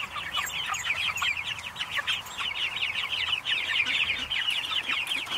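Barred Rock chickens clucking in a backyard homestead flock, a busy overlapping chatter of short clucks and calls at moderate distance, steady throughout with no talking.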